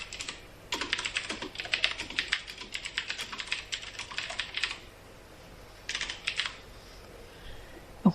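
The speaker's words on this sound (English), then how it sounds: "you start typing the words that are coming on next" Rapid, steady keystrokes on a computer keyboard, close and clear, run for several seconds, pause, then return as a shorter burst near the end while someone enters lyric text into Windows Movie Maker.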